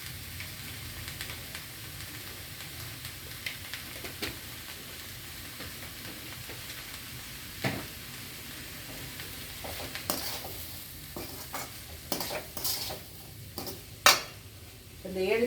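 Onion and tomato sautéing in a pan for paneer masala, a faint continuous sizzle with intermittent scrapes and clinks of a spoon stirring, growing busier toward the end.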